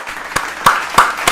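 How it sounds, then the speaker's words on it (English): A short applause sound effect gives four crisp, evenly spaced claps, fairly loud and close, with nothing else behind them. "I'm gonna play that little round of applause clip"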